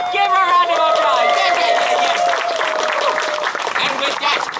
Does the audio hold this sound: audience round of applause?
yes